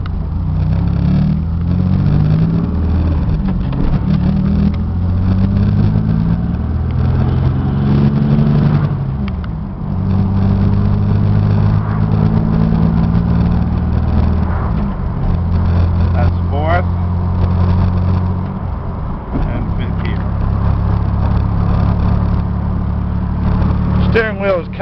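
Chevy Camaro with a V6 and five-speed manual gearbox driven on the road, heard from inside as a loud, steady engine drone that rises and falls through gear shifts, with someone talking over it throughout.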